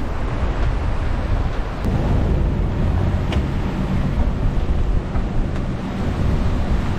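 Strong wind and big breaking seas roar around a small sailboat on the North Atlantic, a dense continuous wash of surf and gusting wind noise with occasional sharp knocks and creaks.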